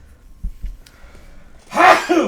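A single sharp sneeze bursts out close by after a brief quiet stretch, loud and sudden, trailing off quickly.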